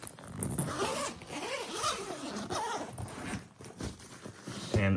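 A zipper on a Rhinowalk motorcycle touring bag is drawn open to expand it, giving a close, scratchy rasp in uneven pulls over several seconds, with a heavier knock near the end.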